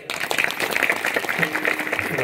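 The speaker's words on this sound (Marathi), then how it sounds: "महाराजांसाठी एकदा टाळ्या वाजवा बरं" An audience at a kirtan breaks into lively applause, a dense, even patter of many hands clapping close by for a couple of seconds.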